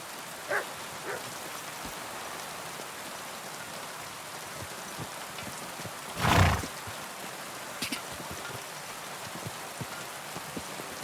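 Steady rain falls in a Kingdom Come Deliverance 2 game scene, with a dog giving a few short barks, including one louder burst partway through; the rain stays constant throughout.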